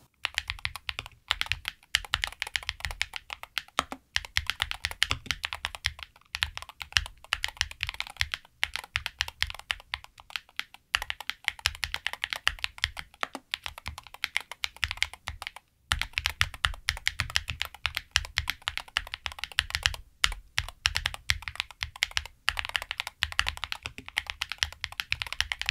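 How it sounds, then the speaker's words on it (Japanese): Typing on a Pulsar PCMK 2HE TKL tenkeyless magnetic keyboard with Pulsar-Gateron blue switches: continuous close keystrokes in quick irregular bursts, with a few short pauses, and no voices. "ではキースイッチについて話す前に打鍵音聞いてみましょう。"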